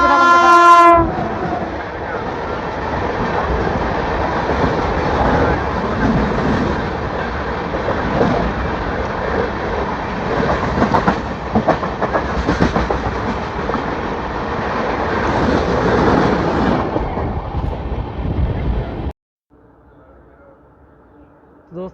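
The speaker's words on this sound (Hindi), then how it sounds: "तो दोस्तों सामने आ रही है 12497 शान पंजाब एक्सप्रेस नई दिल्ली अमृतसर TKDW।" Shan-e-Punjab Express 12497 from New Delhi to Amritsar approaching on an Indian railway line, heard from another train: a brief horn, then a loud sustained roar with rhythmic wheel clatter that cuts off abruptly near the end.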